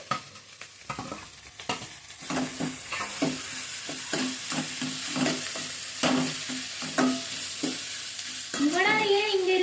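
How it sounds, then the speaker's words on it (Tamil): Onions with ginger garlic paste frying in a home kitchen pan, a steady soft sizzle broken by repeated scraping stirs of a spatula, close and fairly quiet. "வெங்காயம் வந்து கொஞ்சம் நல்லா வதங்கின பிறகு இஞ்சி பூண்டு பேஸ்ட் இப்போ அம்மா ஆட் பண்ண போகிறாங்க"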